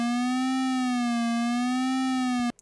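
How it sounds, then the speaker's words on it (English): A single sustained sine tone from the Audiothing Minibit plugin holds steady at moderate loudness with a slight slow pitch sway, then cuts off with a small click near the end. "We see based on the wave right here that it's a sine wave."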